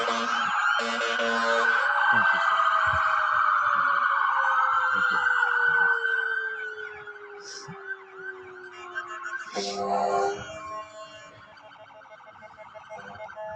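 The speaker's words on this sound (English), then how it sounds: "let's give 2 to 3 seconds of sirens at this time for the Mason County Sheriff's Department" Sirens from Mason County Sheriff's Department and police vehicles wail together in a loud, continuous tribute, their tones sweeping and overlapping at steady strength, easing somewhat after the midpoint before a brief surge near the end.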